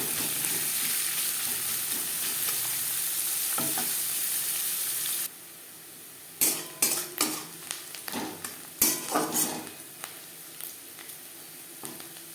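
Onions for spicy semolina sizzle loudly in a pan, then the frying drops away and a run of sharp utensil clinks and scrapes against the pan follows; no talking.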